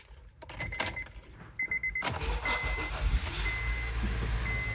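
A 2004 Honda Accord starting up after an oil change, preceded by dashboard chime beeps, then a sudden broad engine roar settling into a steady idle with repeated short chimes, close by.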